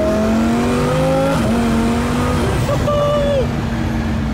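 A car engine revs loudly, pitch climbing and dipping through gear changes, with a voice talking over the engine noise.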